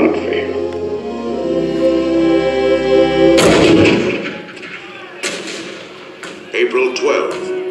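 A deep, booming cannon blast erupts after a sustained droning tone, followed by scattered lighter thuds and crackles fading out.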